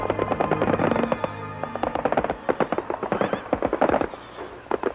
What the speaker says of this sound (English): Fireworks of the man-made variety signal the start to Alaska's largest winter carnival, the Anchorage Fur Rendezvous